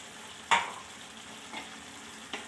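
Roasted masala powder is being stirred into chicken frying in a pan, giving a single sharp scrape at the start and then softer stirring clatter over a faint, steady sizzle, with no voices.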